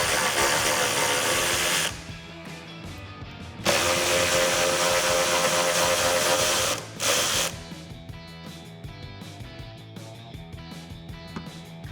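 A 10mm socket on a powered ratchet whirs loudly and close in two long runs, then drops to a quieter steady buzz while removing hood nuts on a 2018-2020 Ford Mustang.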